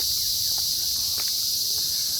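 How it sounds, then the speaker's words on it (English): Dense, steady high-pitched cicada buzzing fills the outdoor air without a break, loud and continuous, with a few faint rustles beneath. "I think we're getting back into a heavy cicada zone."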